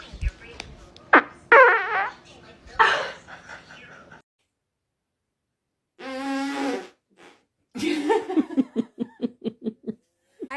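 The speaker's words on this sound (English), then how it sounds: "I have to fart." Laughter and short bursts of talk, then a brief fart and a run of rapid giggles near the end, close and loud with silent gaps in between.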